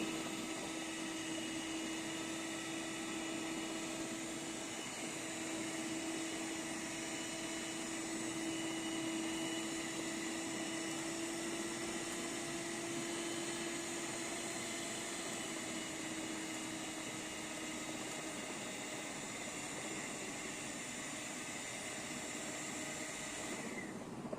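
A Keimav HE-133 seven-speed electric hand mixer runs at high speed with a steady, continuous motor whine and hum, close and unbroken throughout, with no talk.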